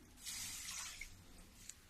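Water is poured onto sugar in a pan to start a syrup for soft barfi, a soft, brief splash and trickle heard alone.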